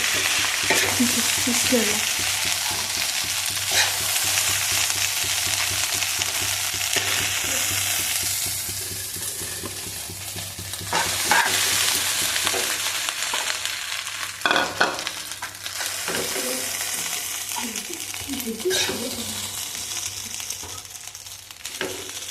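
Rice and egg fry in a pan with a continuous sizzle, while a spatula scrapes and stirs the pan in irregular clattering strokes throughout, with no talking.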